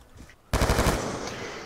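In the video game Black Ops 2, a sudden burst of rapid automatic gunfire starts after a quiet moment and continues as a dense, loud rattle.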